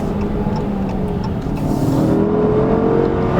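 A 2016 Dodge Charger R/T engine pulls hard, its steady loud roar rising slightly in pitch as it accelerates toward red line, heard from inside with no talking.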